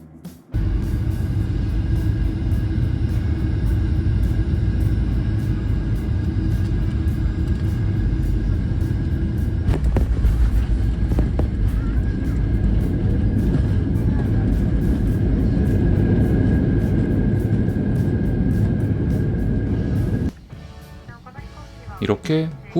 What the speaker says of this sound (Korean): 이렇게 후쿠오카 공항에 착륙을 했습니다.